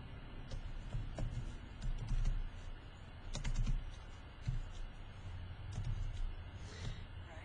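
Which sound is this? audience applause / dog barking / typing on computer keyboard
typing on computer keyboard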